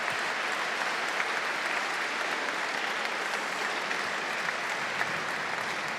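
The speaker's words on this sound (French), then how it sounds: "Les applaudissements" Spectators at a Cesta Punta final in Pau clap steadily in an even, dense wash of applause that carries on without a break and with no voices standing out.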